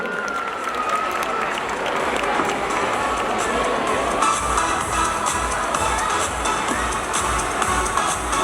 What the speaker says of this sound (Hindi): जोरदार तालियां बजाते हैं उस बच्चे के लिए।